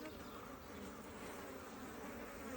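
A mass of honey bees buzzes in a dense, unbroken drone as they are shaken off hive frames during a honey harvest. The sound is soft and constant, with no voices.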